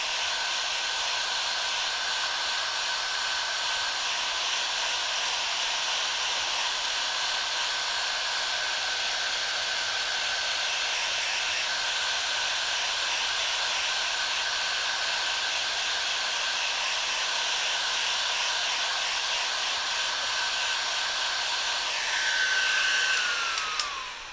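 A Bauer dual fan speed heat gun runs on its highest setting, 7, giving a steady, loud airy roar with a faint whine that holds unbroken for the whole stretch and shifts briefly near the end.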